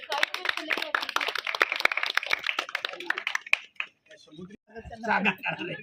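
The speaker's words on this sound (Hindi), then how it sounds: "सोहन जी कस्बा साहब का ताली बजाओ" A crowd claps in a burst of welcome applause at a floral tribute gathering for Savitribai Phule's death anniversary. Dense, rapid claps fill the first few seconds, then thin out as voices talk over the scattered sound.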